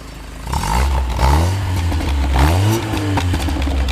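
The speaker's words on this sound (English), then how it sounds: "Go ahead, listen to the exhaust." A 1978 Fiat 124 Sport Spider's four-cylinder exhaust revs up and falls back in two rising-and-falling blips, loud and close, with a rough rasping edge.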